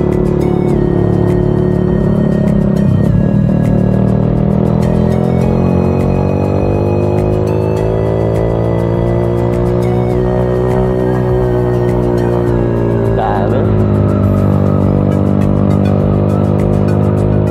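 Loud, continuous Yamaha Sniper 150 motorcycle exhaust drone close by, revving up and down with a rough rumbling muffler tone throughout.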